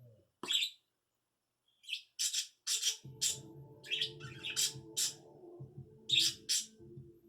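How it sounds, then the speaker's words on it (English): Birds chirp and tweet in short repeated bursts outdoors, fairly faint, with a low background rumble underneath and no talking. "You can hear the birds and all the background noise."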